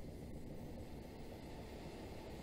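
An AC electric train runs on the London to Bedford line in Train Simulator 2016, producing a steady, dense rolling rumble that holds constant throughout without voices.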